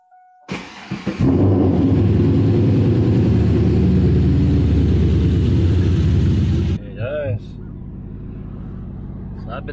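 A car engine cranks briefly and catches, then runs at a loud steady rumbling idle close by for several seconds before dropping to a quieter hum, with faint sounds around it.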